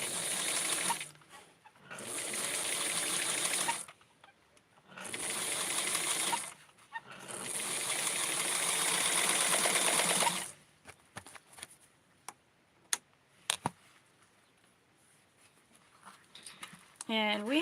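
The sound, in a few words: sewing machine stitching a fabric piece down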